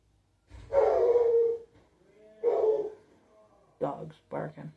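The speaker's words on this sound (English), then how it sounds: "Dogs barking." Dogs bark and howl in a few drawn-out bursts separated by pauses, then give quicker short barks, moderately close with quiet gaps between.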